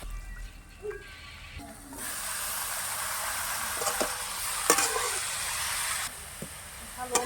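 Washed cabbage hits a pan of reddened onion, garlic and masala, and a loud, steady sizzle surges up abruptly and holds with a few light clinks, close by.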